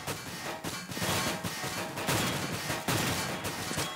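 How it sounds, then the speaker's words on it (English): MAG-7 shotgun blasts in a Counter-Strike match on the A bomb site, loud and dense, with several heavy reports over about four seconds amid constant game noise. "Here's Crazy with that Mach 7, very powerful shotgun."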